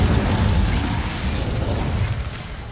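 The Incendio fire spell being cast in Hogwarts Legacy: a loud, dense whooshing burst with a roaring crackle that fills the moment and then fades slightly, with no voices.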